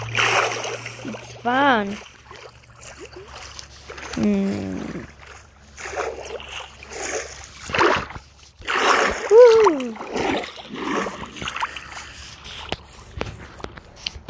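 Water splashing in a Minecraft swimming pool stocked with axolotls: short, bright splashes come in uneven bursts across the clip, close and fairly loud, with a voice talking in between and over them.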